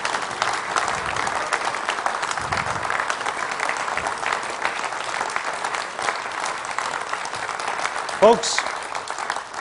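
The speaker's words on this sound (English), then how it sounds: "you can clap all you like" A party conference audience applauds a leader's address, steady crowd clapping running throughout while a voice speaks over it and a brief sharp sound pops out near the end.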